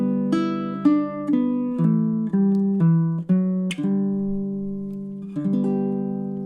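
Slow, plucked chords of Danny Boy on a baritone ukulele in a chord-melody style, each one left to ring before the next; a short, close, solo closing phrase.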